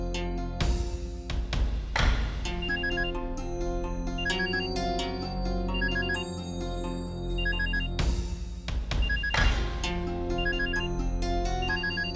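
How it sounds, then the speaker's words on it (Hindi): A telephone ringtone plays repeatedly and unanswered, a loud electronic melodic ring in two bursts with a short pause between, with no voices. "मैं कितनी देर से आपका फोन ट्राई कर रही हूँ लेकिन आप उठा ही नहीं रहे"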